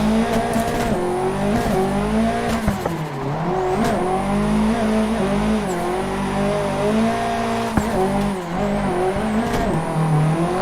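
A Nissan S14 Silvia drifting on street tires in Assetto Corsa, its engine droning loud and steady with rising and falling revs and tires squealing continuously through the slides, with no one speaking.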